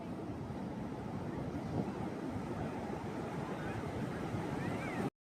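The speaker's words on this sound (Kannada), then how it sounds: "ಇದು ಎಷ್ಟು ಜೋರಾಗಿ ದೊಡ್ಡ ಅಲೆಗಳು ಬರ್ತಾ ಇದೆ" Big ocean waves surge and break continuously at Mangalore beach, a steady loud roar of surf with wind buffeting the microphone throughout, no clear voices over the wash of water.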